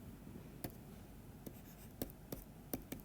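Pen strokes tap and scratch on a writing surface during a diffusion lecture, five or six short close marks at irregular spacing over a quiet background, with no speech.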